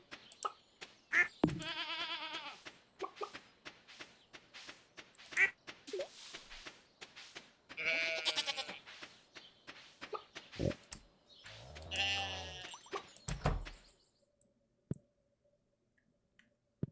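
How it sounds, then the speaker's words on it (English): A goat in Stardew Valley bleats three times, each a wavering, nasal call, separated by soft game clicks and ticks, with quiet gaps and no talking. "Trying to pat the goat."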